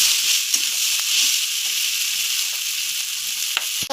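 Pasta being stirred while frying in a pan, a steady close sizzle with occasional scrapes and clicks of the spoon, no talking.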